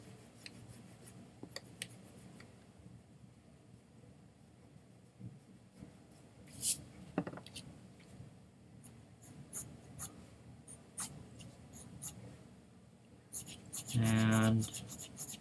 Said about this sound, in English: I'm going to erase some of the extra stuff.